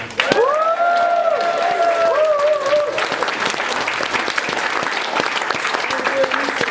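Audience at a strike songs sing-along breaks into loud applause and cheering, with whoops and shouts rising over dense clapping early on, then settling into steady sustained clapping.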